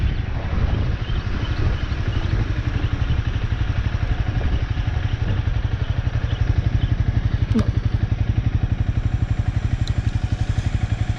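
A motorcycle riding along an open road, with a steady close engine drone and constant wind buffeting across the microphone throughout.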